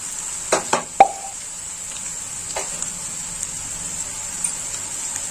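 Garlic, ginger and green chilli pastes drop into a pan where parshe fish is frying, giving a few soft wet plops close together near the start over a faint, steady sizzle that carries on quietly.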